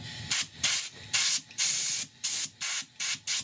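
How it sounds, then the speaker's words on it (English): Bursts of compressed air blasting resin-laden sanding dust off a wooden woodturning piece, eight sharp hissing spurts of varying length in an uneven rhythm, loud and close with no talking. "use a compressor to blow it off"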